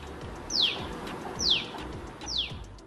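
House sparrow chirping: three short, sharp downward-sliding chirps spaced about a second apart, fairly faint against a quiet background.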